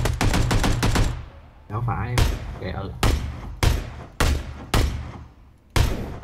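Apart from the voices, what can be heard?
gunfire from a video game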